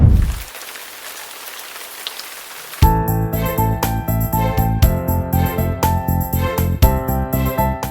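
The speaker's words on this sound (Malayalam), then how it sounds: "മഴ മഴ മഴ." Heavy rain on a plantation kitchen roof comes in as a dense, loud, steady drumming after a brief quiet start, with continuous patter and no voices.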